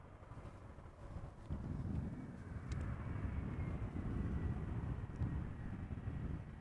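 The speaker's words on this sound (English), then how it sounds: "It is an Embraer 175. This one is coming in from Leeds." An Embraer 175 airliner arriving at Amsterdam Schiphol from Leeds, a steady, broad jet roar that swells slightly and holds, with some wind rumble on the microphone.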